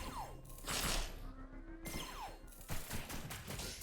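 Rapid volleys of gunfire from the video game Paranoia: Happiness is Mandatory, loud dense bursts with sharp cracks and whooshing projectiles, continuing through the clip with no talk.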